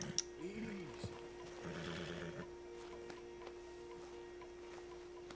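A stallion in Red Dead Redemption 2 gives a close, rising-and-falling whinny followed by snorts and a second fluttering neigh, with faint hoof clops and quiet game ambience.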